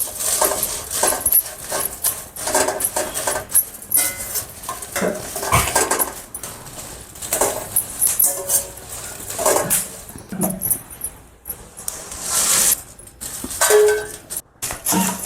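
Quarter kilo of Byadagi chillies being roasted in a little oil in a pan over low heat for sambar powder, with a spatula scraping and clinking against metal in irregular bursts and no talk.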